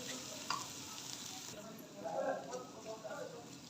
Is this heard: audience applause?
no